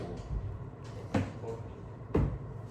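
A door is handled indoors with two sharp knocking clunks and some softer rattles, close and fairly loud against a quiet room.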